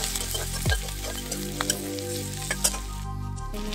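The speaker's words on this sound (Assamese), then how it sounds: "এইখিনি মই ধুনীয়াকৈ ভাজি ল'ম।" Chopped onion, ginger and garlic fry in a pan for egg chowmein, giving a loud, steady close sizzle with a few clattering stirs and no voices.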